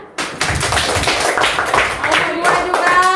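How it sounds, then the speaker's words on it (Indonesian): Classroom students clapping for the first group in a lesson, a steady dense patter of many hands that runs throughout, mixed with voices and cheering. "Terus untuk kelompok 1 tepuk tangan."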